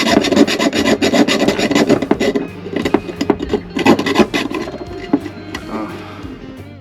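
Hand saw rasping through material on a boat moored at a dock, fast repeated back-and-forth strokes, close and fairly loud, slowing toward the end.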